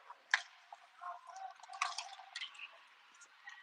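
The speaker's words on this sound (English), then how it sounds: "And then more splashing around going on behind the net." Players splash through meltwater puddles on the ice behind the net during an 18U youth hockey game, making a series of scattered wet slaps and sloshes of moderate loudness with no talking.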